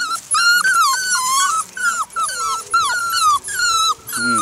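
Six-week-old puppies from a litter whimper, whine and give small growls continuously, several high voices overlapping close up and fairly loud.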